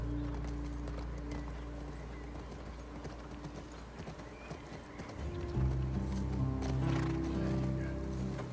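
A horse in The Last of Us Part II whinnies as its hooves clop in a steady rhythm, with game ambience and musical tones in the background and a louder passage of movement toward the end.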